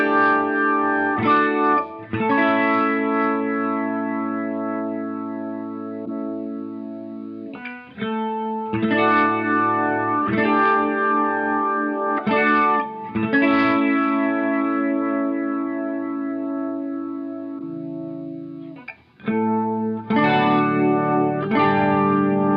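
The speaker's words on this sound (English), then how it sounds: "you heard me throw some distortion into that first demo from my Caroline Haymaker." An electric guitar runs through a Boss MO-2 Multi-Overtone pedal with distortion from a Caroline Haymaker, playing sustained, thick chords with shimmering added overtones, steady and loud, with brief gaps between phrases and no voices.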